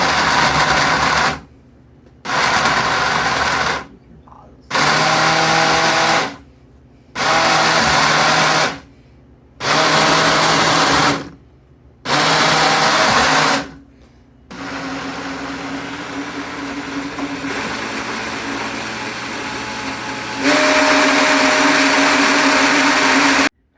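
A blender making a smoothie pulses in six short bursts with pauses between, then runs continuously at a steady whir before jumping to a higher, louder speed.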